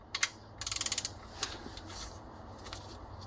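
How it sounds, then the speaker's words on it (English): A torque wrench tightens the oil drain plug on a Ford Focus with a 2.0L Duratec engine, giving quick bursts of close, crisp ratcheting clicks followed by a few fainter metallic ticks in a quiet space. "So now we're gonna torque down the drain plug"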